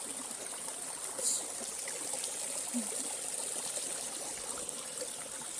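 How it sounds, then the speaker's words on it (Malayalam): Water flows in a small village stream near a forest waterfall, a constant close trickling rush with no pauses. "വെള്ളത്തിൻ്റെ സൗണ്ട് കേൾക്കുന്നുണ്ടോ?"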